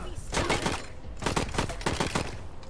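Gunfire erupts in the turn-based video game Wasteland 3, with rapid bursts of automatic shots in two or three clusters separated by short pauses, loud and sharp.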